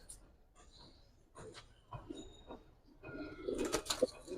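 Giribaz racer pigeons coo softly in short bursts, growing busier near the end with fluttering and rustling in a close, quiet space.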